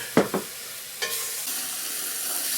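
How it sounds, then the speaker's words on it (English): A spoon stirs milk around in a hot pan for mac and cheese, two quick scrapes and a knock against the pan, then a continuous soft sizzle and hiss fills the rest, no talking. "I'm just going to stir around before I add the rest of the milk"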